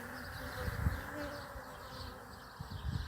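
A swarm of honey bees hums steadily outdoors in late July, a dense low buzz with a few louder swells as bees pass close to the listener.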